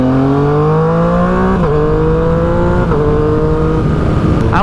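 A Stage 3 KLX351 motorcycle runs hard on a dyno, its loud engine climbing in pitch through several gear changes in quick succession.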